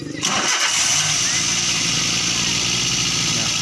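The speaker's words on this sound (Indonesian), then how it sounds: "Sekarang bisa dihidupkan mesinnya." A car engine cranks and starts, then settles into a steady running idle close by, during a radiator flush done without removing the radiator.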